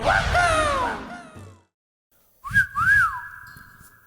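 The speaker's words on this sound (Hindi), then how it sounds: "आपको देख के सीटी मार दी" Person whistling at someone, a loud sliding wolf-whistle-like phrase, then a pause of silence and a second shorter warbling whistle.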